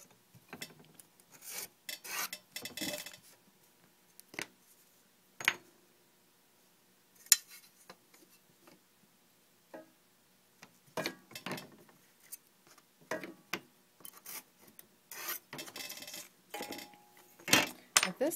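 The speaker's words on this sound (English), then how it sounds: "roll the leaf in, and then cut it out with a needle tool" A needle tool cuts around a leaf rolled into soft clay, giving faint, intermittent scraping and rasping strokes in short bursts separated by quiet gaps, close and without talk.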